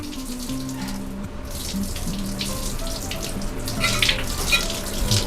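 A cast iron dosa tawa being washed under a running kitchen tap, with a steady close stream of water splashing onto the metal and shifting slightly as the pan moves.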